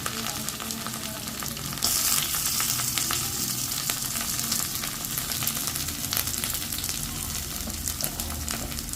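Onions and curry leaves frying in hot oil, a steady close sizzle and crackle that swells briefly as they go into the pan, with light stirring.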